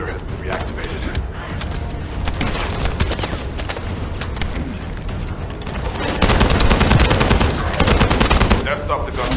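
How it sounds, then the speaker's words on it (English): Gunfire in The First Descendant video game, dense rapid bursts and crackling shots that keep going, growing heavier later, with speech faintly mixed in. "That stopped the gunfire."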